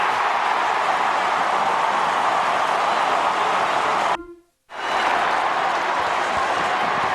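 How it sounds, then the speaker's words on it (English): Stadium crowd roaring continuously at AAMI Stadium during a 2007 Port Adelaide versus Adelaide Australian football match, loud and dense, broken by a brief silent cut near the end before the roar resumes. "And the crowd will be on their feet at AAMI Stadium"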